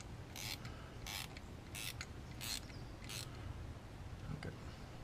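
A ratchet on a universal joint snugs a spark plug into a Mercedes C350 engine, giving five short bursts of clicking at a steady pace, close by over a low background hum.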